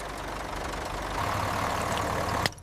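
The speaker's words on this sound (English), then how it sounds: "The engine is roaring now." Engine of an old abandoned bus running soon after its first start, a loud steady low rumble with rough knocking pulses, ending in a sharp clack.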